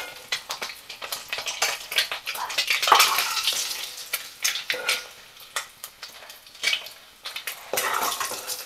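Eggs frying lightly in oil in a pan for an egg pulusu make bursts of sizzling that rise and fall, mixed with the scrape and clink of a utensil turning them.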